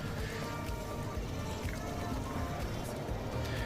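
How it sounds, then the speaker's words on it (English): A Shark ION AV753 robot vacuum with tri-brush system running steadily, a low continuous puttering hum like an old idling engine, faint and unbroken with no talk. "a normal robot vacuum sound, and it almost has like a puttering sound to it"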